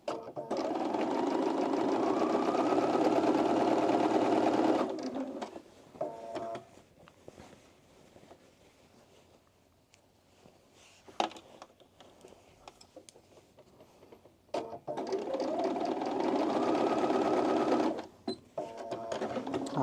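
A Bernina sewing machine runs in two steady, loud bursts of rapid stitching separated by a quiet stretch with faint clicks and handling noises, no talking.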